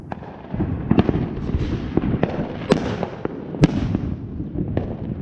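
Horsetail willow fireworks bursting during a pyrotechnics show, with sharp cracks and pops scattered over a crackling rumble at a moderate distance.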